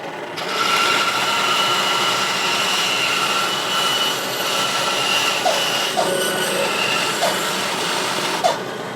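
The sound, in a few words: bandsaw cutting off excess wood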